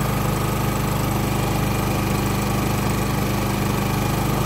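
A Champion 3400 dual fuel inverter generator running on propane hums steadily at a constant idle, a loud, even engine drone with a fine rhythmic pulse and no voices.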